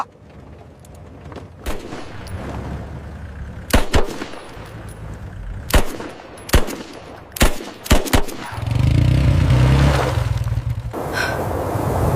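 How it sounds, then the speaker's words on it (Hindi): A series of sharp gunshots fired at a vehicle's tires, some single and some in quick pairs, cracking loudly over a rumbling vehicle engine, followed by a heavy roaring burst. "तात्या, इसके टायरों पे गोली चला।"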